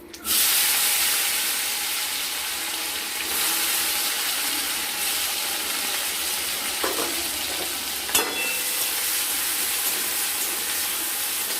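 Chopped tomato hits hot fish-frying oil seasoned with cardamom, setting off a loud, steady sizzle and hiss close by, with faint stirring clinks partway through and no talking.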